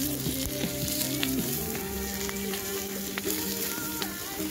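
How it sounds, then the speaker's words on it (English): Peppers sizzle and crackle steadily in a pan over a campfire at a wild camp in Galloway Forest, Scotland, a continuous close frying hiss with small pops and no talking. "Oh yeah, it's sizzle time."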